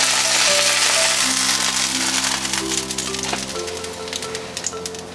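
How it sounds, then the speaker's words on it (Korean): Squid kimchi pancake sizzles in an oiled pan over medium heat, a loud, close, continuous crackle like rain on a surface, with faint background hum and a few sharper pops. "아, 소리만 들어도 좋네요. 자글자글자글자글. 비 오는 소리네요."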